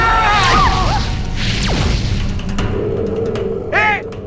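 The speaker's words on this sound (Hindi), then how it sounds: "अब दिवाली के पटाखे कौन फोड़ रहा है बाहर?" Several loud booms and crashes with whooshing sweeps beside a flying house with propellers in a fantasy TV drama, sounding like a volley of firecrackers, with brief vocal sounds and a rising tone near the end.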